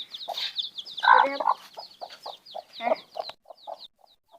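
Chickens clucking close by while chicks are chased, a run of short, clipped clucks with a couple of louder squawks, fairly loud and spaced in an uneven rhythm.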